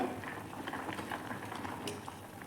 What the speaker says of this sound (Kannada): ಇವಾಗ ಕುದೀತಾ ಇದೆ